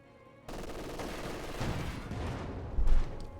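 A Pak anti-tank gun firing in the Company of Heroes 2 strategy game, set against dense, continuous battlefield gunfire that starts abruptly and builds to a heavier burst near the end, loud and close.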